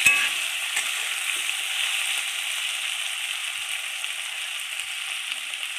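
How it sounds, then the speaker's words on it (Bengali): Turmeric and cumin powder sizzling in hot oil in a frying pan as they are stirred, a steady close crackling hiss with faint scraping, no voices. "জিরের গুঁড়ি দিয়ে দিয়েছে, দিয়ে নাড়িয়ে নিচ্ছে।"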